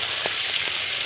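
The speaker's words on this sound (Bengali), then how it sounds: "এখানে জিরে ফোড়ন আর তেজপাতা দিয়ে দিয়েছি।" Cumin seeds and a bay leaf frying in hot oil, a steady close sizzle with a few soft taps, no talking.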